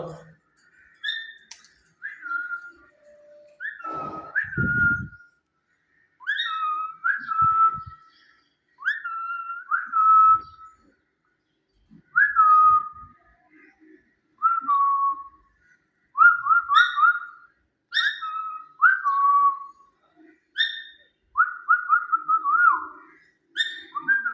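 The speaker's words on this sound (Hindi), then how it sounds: "मेरी सीटी के साथ सीटी बजा रहा है, देखा।" A pet parrot whistles along with a person's whistling, trading clear repeated tuneful phrases back and forth over many seconds, close and fairly loud, with a few brief thumps between.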